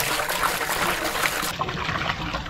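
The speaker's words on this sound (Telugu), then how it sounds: "60 లీటర్ల వాటర్ అయితే వేసారు. ఇప్పుడు ఇంకో 60 వేస్తారు." Water pours from cans into a large cooking pot in a continuous close splashing gush, steady and fairly loud from start to finish.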